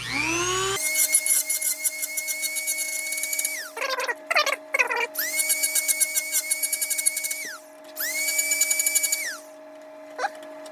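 A rotary tool grinds plastic proton pack parts, its high motor whine rising as it spins up and then running in several sustained bursts broken by brief stops and rough contact scrapes, loud and close.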